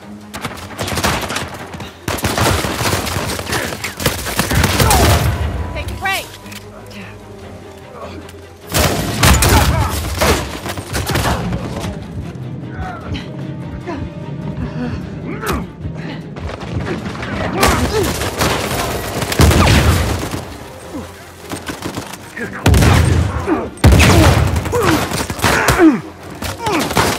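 Online multiplayer gunfire in Uncharted 4: A Thief's End: loud, repeated bursts of automatic fire and single shots crackle in clusters, with thuds and booms between them and quieter gaps separating the volleys.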